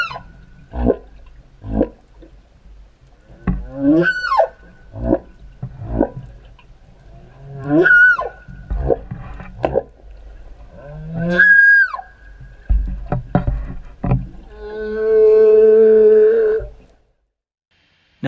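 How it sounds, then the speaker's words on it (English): Fin whale moans, about 80 feet long: a series of low, drawn-out calls with falling and rising tones, spaced irregularly over background water noise, ending in a sustained harmonic groan. "80-foot-long fin whales, second only in size to the blue whale, can make low-frequency moaning sounds"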